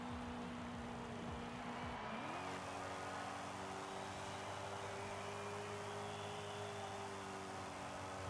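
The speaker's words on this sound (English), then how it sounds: "This is a nice revving engine." A race car engine in Forza Horizon 5 holds a steady high-rev drone near the redline, with a brief dip and shift around two seconds, then sustained loud engine noise with no talk.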